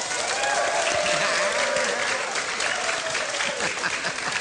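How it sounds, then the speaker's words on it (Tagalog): An audience at a village barangay gathering breaks into sustained, dense applause, loud and continuous for several seconds with no pauses. "Palakpakan!"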